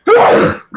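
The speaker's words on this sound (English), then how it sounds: "That was a sneeze." A single loud, close sneeze bursts out and trails off, followed by a brief voice after a short gap.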